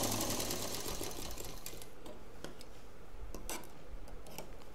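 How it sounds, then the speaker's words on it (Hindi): Sewing machine stitching a fold into shirt fabric for a travel bag, a rapid mechanical rattle that runs steadily throughout with faint ticking clicks, close by and without voices. "तो जो 7 इंच का एरिया है वहाँ पर एक फोल्ड देकर मशीन चला देंगे।"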